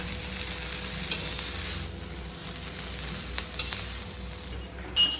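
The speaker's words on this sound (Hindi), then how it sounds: "ये मिक्स हो रहा है, इसको अच्छे से आप जितना हो सके तो अच्छे से मिक्स करिएगा" Veg Hakka noodles being stirred and fried in a pan, a steady close sizzle with a few sharp utensil scrapes and clinks against the metal, no voices.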